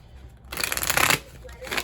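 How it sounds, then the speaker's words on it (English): Deck of playing cards being shuffled nearby, one quick riffling burst of crisp flutter lasting under a second, followed by quieter handling sounds. "I'm going to shuffle these cards"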